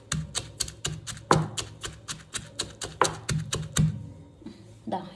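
A pestle crushes dried fish and coconut with steady, rhythmic thuds, around twenty close, dull strikes in quick succession with brief pauses.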